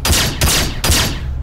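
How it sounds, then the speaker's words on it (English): Three sharp energy-pistol shots ring out in Star Citizen, evenly spaced about 0.4 seconds apart, each a bright crackling zap with a low thump that decays quickly, close and loud with no talking. "it's like an energy pistol"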